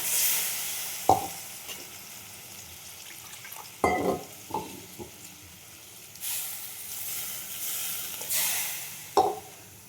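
Spice paste and the water from rinsing the mixer go into a sizzling pan for an egg dish, with a steady hiss of frying, a few sharp knocks and stirring scrapes, and louder splashing bursts of sizzle near the end.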